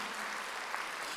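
A church congregation at a Sunday worship service applauds, a dense, even wash of clapping that carries on steadily without pause, with no speech over it.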